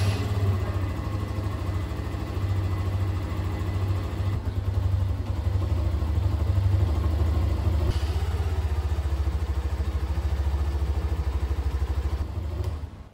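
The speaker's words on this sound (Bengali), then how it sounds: "আগে আপনাদেরকে নর্মাল যে সিঙ্গেল চ্যানেল এবিএস ভার্জনের ইঞ্জিনটা ছিল তার আওয়াজটা একবার শুনিয়ে দিই।" A single-channel ABS Hero Xtreme 125R motorcycle, a 2025 model with a 125 cc engine, idles steadily and close up for the whole stretch, a continuous low engine drone with a light mechanical clatter and no talk.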